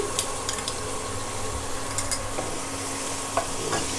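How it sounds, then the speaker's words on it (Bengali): Shrimp fry in a pan of mashed banana flower with coconut, a busy sizzle under repeated stirring clicks and scrapes. "এখন আমি চিংড়ি মাছ দিয়ে দিচ্ছি"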